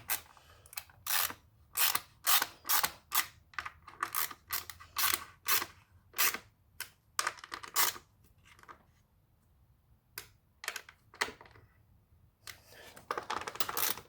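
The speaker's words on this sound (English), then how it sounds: "Once everything's in place, you can tighten these back down." Ratcheting clicks from a wrench tightening the fuel rail hold-down bolts on a BMW F-series engine during fuel injector replacement, in quick repeated bursts with short pauses, close and fairly loud, no talk.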